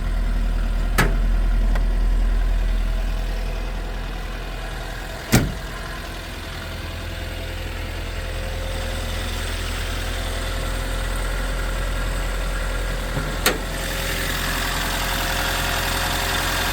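A cold 1979 Toyota 4x4 pickup engine idles steadily outdoors, a low, even hum with a few sharp knocks or clicks scattered through it and no talking.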